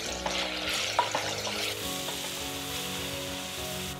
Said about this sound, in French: on verse un peu d'huile et la viande. On la fait saisir un peu